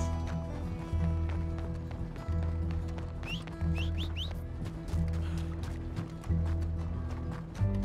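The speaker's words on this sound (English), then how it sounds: "My horse seems to have heard my call" Galloping horse hooves in Red Dead Redemption drum in a fast repeated rhythm against steady background music, close and moderately loud, with a few brief bird-like chirps partway through.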